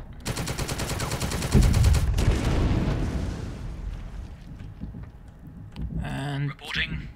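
Soldiers shoot in the video game The Troop, opening with a fast, loud burst of gunfire that rolls into a rumbling, fading crash. Brief tonal game sounds follow near the end.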